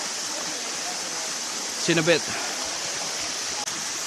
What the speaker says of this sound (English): And here's the falls behind me.